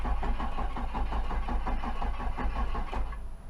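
An old Chevy OBS pickup engine cranks over and over on gas that is several years old, trying to catch. A loud, steady, rhythmic churning runs through the whole stretch and eases slightly at the end.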